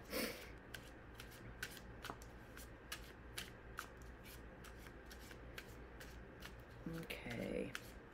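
A spooky-themed deck of cards is shuffled close by in quiet surroundings. Crisp repeated riffles and snaps recur every half second or so, and a voice speaks briefly near the end.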